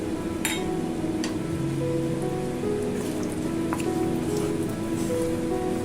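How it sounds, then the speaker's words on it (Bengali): Cashews and raisins fry in a little white oil for a navratan vegetable dish, making a continuous close crackling sizzle with faint pops and light clinks. "একটু অল্প করে ভেজে নেব কাজু কিশমিশগুলো"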